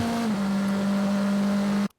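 A steady, droning race car engine, a Nissan-powered NP01 EVO prototype at Sonoma Raceway shifting around 6,800 to 6,900 RPM, holds one pitch for about two seconds, then cuts off abruptly into silence.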